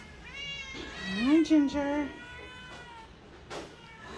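A nine-week-old stray kitten gives a drawn-out, rising and falling meow up close, followed by a faint short squeak, while a person speaks softly to it.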